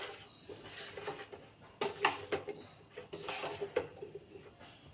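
Ingredients with salt are stirred in a bowl, giving soft scraping and light clinks of utensil against the dish in uneven bursts, close by and fairly quiet.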